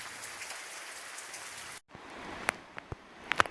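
Steady rain patters on a muddy hiking trail during a thru-hike, a constant close hiss broken near the end by a brief pause and a few sharper drips and taps.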